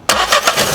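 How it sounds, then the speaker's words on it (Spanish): A car engine cranks with a rapid, loud starter rhythm of about four pulses over less than a second, close and alone, during an oxygen sensor diagnosis. "Arrancamos el coche"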